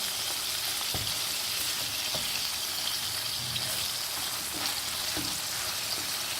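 Mutton sizzles and fries in a karahi, a dense steady crackle with occasional stirring clatter, close and continuous with no talking.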